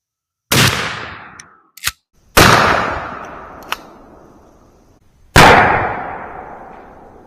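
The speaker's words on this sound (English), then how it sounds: "Here's our last shot with the Winchester SuperX." A 12 gauge shotgun fires Winchester SuperX 00 buckshot outdoors: three loud, sharp blasts spaced a couple of seconds apart, each with a ringing decay, plus a few small clicks in between.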